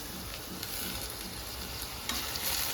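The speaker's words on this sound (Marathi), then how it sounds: "टोमॅटो पण थोडा तेलात परतून घ्या।" Chopped tomato sautéing in hot oil over softened onion for a masoor dal khichdi, a steady close sizzle and frying hiss running throughout with faint stirring scrapes, no voices.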